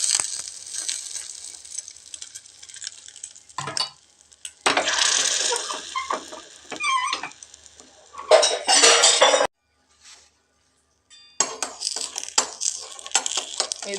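An omelette cooks in half a spoon of ghee inside a small ladle and is gently stirred and flipped, bringing intermittent metallic scrapes and clinks of utensil on metal with short quiet pauses between bursts.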